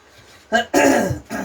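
A person clears their throat with a few short, raspy rumbling bursts, close to the microphone.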